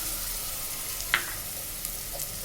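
Tomato puree added to ginger and garlic frying in oil gives a soft, continuous sizzle with a couple of faint clicks, fairly quiet and close.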